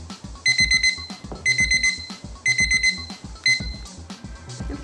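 An electronic timer beeps in four repeated bursts of rapid high tones, roughly one per second, over low background noise.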